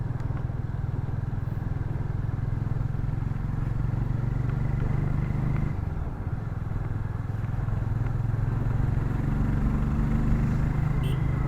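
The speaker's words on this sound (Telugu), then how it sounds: "నాకు మెయిన్ బైక్ ఎగ్జాస్ట్ నోట్" A Royal Enfield Meteor 350 motorcycle engine thumps in a steady, low, continuous drone, heard close while riding, with a slight rise in pitch near the end and no talk.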